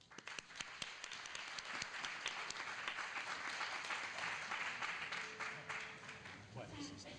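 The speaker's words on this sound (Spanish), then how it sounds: "Un fuerte aplauso" Audience clapping for a speaker at a talk, a dense run of hand claps building quickly and holding steady before thinning near the end, with faint voices underneath.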